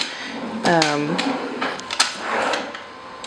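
A drawer slides and rattles with short wooden knocks and a squeaky scrape, close by, while a person talks briefly over it.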